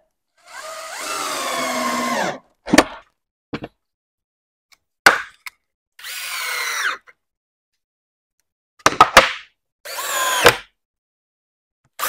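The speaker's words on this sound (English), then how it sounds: "once you sink in the screws in the sides, those sides will come together and be just fine" A power drill drives screws into the sides of a wooden box in several separate whirring bursts, each a couple of seconds long and close and loud, with sharp knocks and handling clicks between them and silent pauses.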